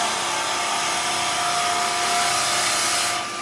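A roughing gouge cuts a long slice from spinning wood on a lathe, making a loud, steady, hissing whoosh with a faint underlying hum that carries evenly throughout.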